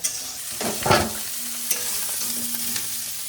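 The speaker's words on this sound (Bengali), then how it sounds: "ফুলকপিগুলো বেশ ভালোভাবে ভাজা ভাজা হয়ে গেছে, এবার নামিয়ে নেব।" Cauliflower florets fry in a pan while being stirred, a close sizzle broken by a few scraping stir strokes near the start, with a faint hum underneath.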